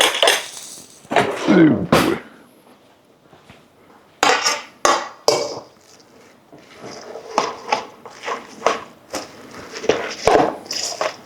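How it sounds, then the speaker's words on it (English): Spoons mix homemade KFC-style coleslaw in a bowl, with irregular clinks, scrapes and knocks in bursts and quiet gaps between them; a brief exclamation is heard. "All that's left now is just to mix this up, and we will be done. Let me get this other spoon."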